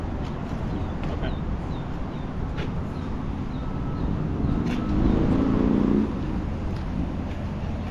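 A government auction Humvee drives down a road, its steady, moderately loud rumble and road noise continuing throughout, swelling slightly about two-thirds of the way through.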